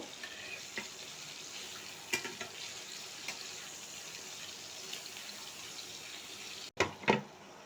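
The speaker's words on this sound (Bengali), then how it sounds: "আমি মাছগুলো এখন সুন্দর করে এক এক করে ভেজে উঠিয়ে রাখবো" Singh fish fry in hot oil in a covered pan, giving a faint, steady crackling sizzle with a few soft knocks and a sharper clatter near the end.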